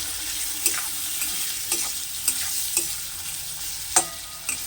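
Sliced tomatoes stirred into a frying spice mix in a pan for a pabda fish dopiaza, a steady hissing sizzle punctuated by about eight sharp spatula scrapes at an irregular rhythm, close by, with no talk.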